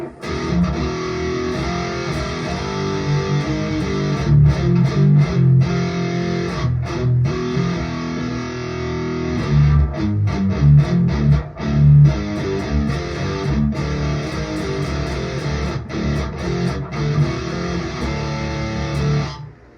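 An electric guitar plays through a distorted tone with cranked mids, sustained chords and riffs ringing loud and close, with choppy stops and restarts and no talking.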